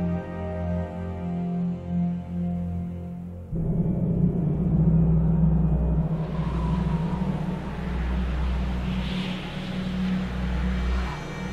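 A cable car in the video game Until Dawn gives a low steady mechanical hum, then shifts to a deeper rumbling drone with airy whooshing as the ride moves on.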